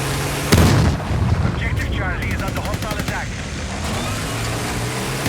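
Battlefield 6 gameplay in which a tank fires: a sharp, loud cannon blast lands near the start, then dense battle noise follows with chattering gunfire, rumbling engines, and some voices mixed in throughout.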